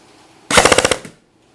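An upgraded airsoft MP5 fires a single short full-auto burst of about eight rapid, loud, close cracks lasting roughly half a second, then goes silent.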